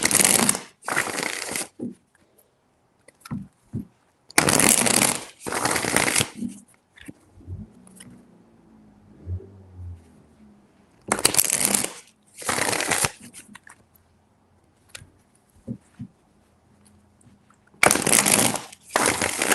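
Tarot cards are shuffled in several quick riffling bursts, close and crisp, separated by quiet pauses with faint handling noises.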